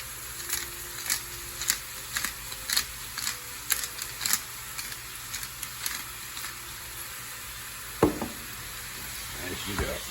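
Ground beef frying in a pan, a steady sizzle with regular scraping and stirring knocks from a utensil, ending in a few louder clatters.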